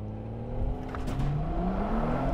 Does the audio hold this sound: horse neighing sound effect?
no